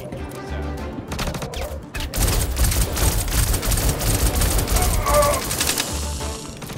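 Rapid bursts of gunfire in the space shooter game Star Citizen during a multicrew bunker assault, dense and loud throughout with crashing impacts layered over the shots.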